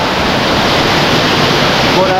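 Water rushes powerfully through the abandoned dam project at Montejaque in Spain, a loud, steady roar of current that fills the whole moment without a break.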